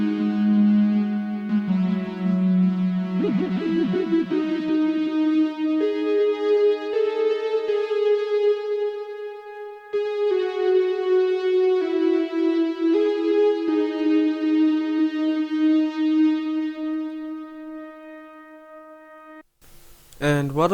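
Three stacked synth leads, one a sine lead from Xenology, play a sustained harmonized melodic line over chords in an 80s vintage-style sample, loud and continuous for about twenty seconds before a brief break and a new sound at the end.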